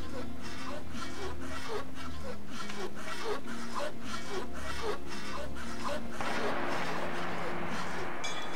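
Sawing with a saw blade in This War of Mine, a long run of rhythmic back-and-forth rasping strokes, steady and close, with a low background drone and a rougher, noisier stretch near the end.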